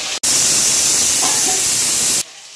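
Fish frying in a pan of hot oil gives a loud, steady sizzling hiss for about two seconds, then cuts off abruptly, with quieter kitchen sound afterwards.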